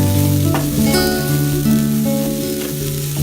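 Grated coconut frying with red radish and its leaves in a South Indian style, a continuous close sizzle with stirring scrapes and faint background tones, no talking.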